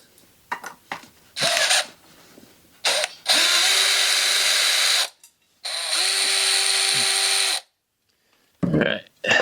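A power drill backs screws out of the mounting bracket of a Harbor Breeze ceiling fan, running in two long loud whirring bursts with a few short blips and handling clicks between them.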